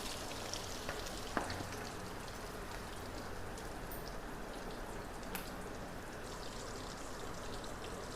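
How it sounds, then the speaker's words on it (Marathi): Chicken pieces deep frying in hot oil give a steady, even bubbling sizzle like light rain, faint and continuous with a couple of small ticks; no voices. "तुमकां जाय जाल्यार शॅलो फ्राय सुद्दां करपाक जाता. सो हांवें डीप फ्राय केला."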